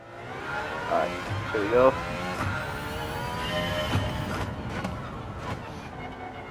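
An Aston Martin Valkyrie in Gran Turismo 7 revs and accelerates on the Spa circuit, its engine note rising and shifting through gears, with someone speaking briefly over the start.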